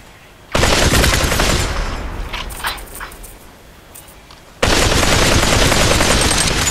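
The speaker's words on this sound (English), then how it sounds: "My favorite, assault rifle." Assault rifle gunfire rips out in the VR shooter Population One: a loud, dense sustained burst, then a quieter stretch of scattered game sounds, then another long full-auto burst.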